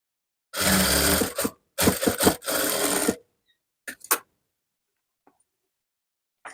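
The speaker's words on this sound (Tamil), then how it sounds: "இன்னொரு ஃபோல்டிங் அப்படியே இதை மறைச்சி வச்சு ஒரு அமுக்கு தையல்" A sewing machine in a tailoring class stitches down a fold of fabric that hides an earlier seam, running in three close bursts of steady mechanical whirring, followed by a few faint clicks and handling noises.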